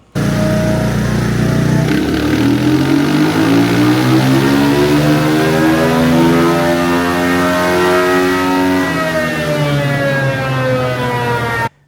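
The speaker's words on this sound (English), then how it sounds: "everybody's seen the dyno run on ultimately what it did when it was done" A KTM 500 dirt bike fitted with a Powerlips intake revs hard on a dyno, its engine note climbing smoothly and loudly through a long, sustained pull before dropping off sharply at the end.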